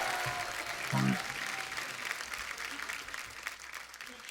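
Studio audience applause on a Hindi comedy talk show honouring a singer, a continuous, moderately loud wash of clapping with a brief voice near the start.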